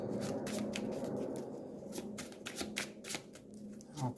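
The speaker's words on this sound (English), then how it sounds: "Shuffle the gate stack." A stack of Eldritch Horror gate cards riffled and shuffled by hand at a table, a steady papery flutter of quick card slaps and soft rustling, close and fairly quiet, with no talking.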